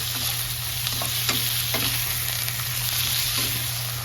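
Beef pieces sautéing in a home-cooking pan, a close, continuous sizzle with stirring scrapes and faint clinks over a steady low hum, no voices.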